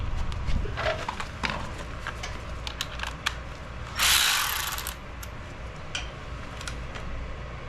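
Ratchet wrench clicking as it works out an 8 mm hex bolt on the front brake of a 2017 Indian Scout motorcycle, quick close bursts of clicks with a brief louder metallic rattle midway, no talk.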